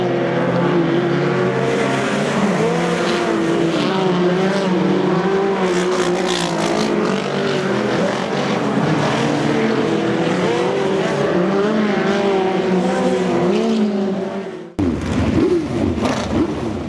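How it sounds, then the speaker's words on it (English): ARDC midget race cars run warm-up hot laps on an oval track, engines droning loudly and steadily in a sustained high whine with shifting pitch as the pack circles, ending in a sudden cut to another nearby engine. "the green is out for the first set of ARDC warm-up hot laps"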